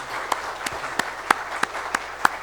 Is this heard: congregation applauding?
yes